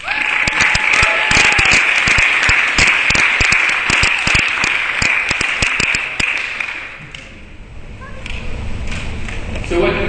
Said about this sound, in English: Give a round of applause for Chris and a big round of applause for Bob Richards